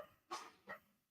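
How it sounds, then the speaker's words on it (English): Two short barks from a dog indoors, a quick pair of loud yips about half a second apart, with a faint whimpering tail after the second. "Oh, here comes my dogs."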